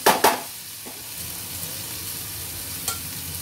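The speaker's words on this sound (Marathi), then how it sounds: "ब्रेडचे तुकडे टाकून हे चांगलं मिक्स करायचं." Bread pieces stir-fried in a pan for bread bhaji, a couple of sharp scraping clatters at the start followed by a low, steady sizzle, close and without any voices.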